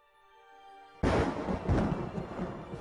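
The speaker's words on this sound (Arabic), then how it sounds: "هلعا يستيقظون على صوت الرعد" After a quiet tonal opening, thunder breaks in abruptly, a loud crack that rolls into a sustained, heavy rumble and stays strong to the end.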